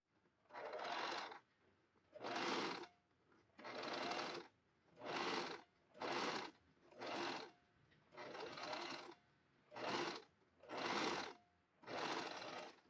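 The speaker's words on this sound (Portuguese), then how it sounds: "Vou costurar aqui em cima do acabamento, pegando essa margem aqui." About ten separate runs of a sewing machine stitching along a garment facing, each a quiet, even whir lasting roughly a second and separated by short pauses, close by with no talk over it.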